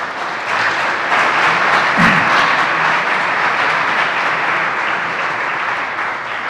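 Church congregation applauding during a sermon, a dense steady wash of clapping hands filling the whole stretch at close, loud level with no talk over it.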